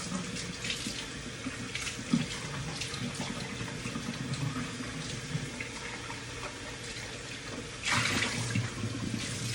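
Tap water runs steadily into a sink or container, fetched for a pet named Frankie, a continuous broadband splash with a brief louder gush near the end.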